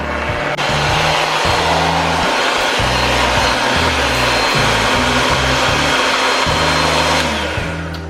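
A stand mixer runs on medium speed kneading bread dough for a no-knead lemon bubble bread, a loud steady motor whine with a rhythmic labouring thump as the dough turns, continuous throughout with no talk.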